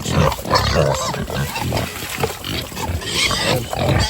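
Pigs grunt and squeal continuously while eating at a new feeder, a busy, noisy cluster of animals close by with steady commotion throughout.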